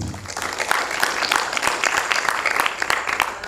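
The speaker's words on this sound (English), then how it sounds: "Ladies and gentlemen, another round of applause to our presenter." Conference audience applauding the presenter and participants at an international scientific session, a sustained, even patter of many hands clapping, moderately loud and continuous.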